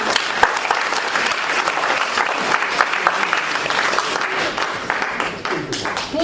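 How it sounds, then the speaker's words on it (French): An audience at a singing competition final applauds Samuel Faye, with dense, sustained clapping from a sizable crowd filling the room for several seconds. "Messieurs, dames, un tonnerre d'applaudissements pour M."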